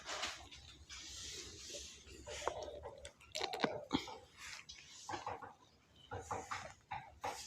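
Faint, close crunching and chewing from a goat eating its food, irregular bites and soft grinding spread through several quiet seconds.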